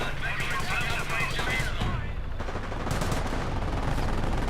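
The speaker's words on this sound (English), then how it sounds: "Panzer is firing away" Panzer tank firing in the Company of Heroes game amid a dense, continuous din of battle, with rapid machine-gun bursts and gunfire rattling throughout at steady high loudness.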